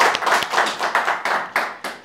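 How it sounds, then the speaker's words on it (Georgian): An audience at a stage show in Georgia claps loudly and close by, in a series of sharp, rhythmic bursts that fade quickly between beats, with no voices over them. "კი ბატონო, ტაში."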